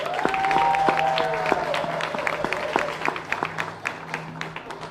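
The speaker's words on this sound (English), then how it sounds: "let's give a big round of applause, guys" A crowd at a high school car giveaway applauds steadily, many hands clapping at once, the sound gradually thinning toward the end.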